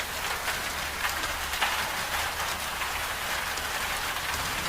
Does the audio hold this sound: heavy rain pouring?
yes